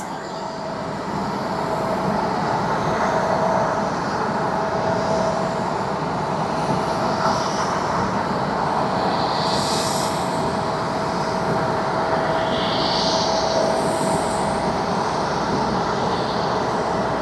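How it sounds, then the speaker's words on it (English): A Boeing 777 airliner at Tokyo Haneda Airport drones with a steady, loud, continuous jet engine roar. Faint tonal whines drift above it throughout. "Now, since that is a Boeing 777,"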